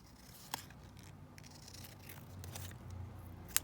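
Scissors snipping through a piece of fabric, a few short sharp cuts separated by quieter rustling, close and alone.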